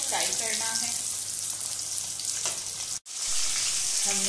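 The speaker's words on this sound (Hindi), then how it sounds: "परवल को हम 5 से 6 मिनट तक अच्छे से फ्राई करेंगे। और ये सारे प्रोसेस हम अभी मीडियम फ्लेम पे कर रहे हैं।" Pointed gourd (parwal) frying in a pan over a medium flame, a steady close sizzle throughout with a brief clatter and a short break near the end.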